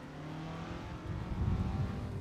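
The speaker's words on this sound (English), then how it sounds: "Oh, wow, the car's really loud." A race car engine at the Nürburgring drones from inside the car during a race, a steady mid-pitched roar that swells louder near the end of the short stretch.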